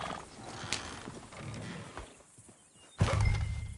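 Horses in the video game Red Dead Redemption 2: soft hoof clip-clops and tack creaks, faint and intermittent, with a louder burst of movement near the end.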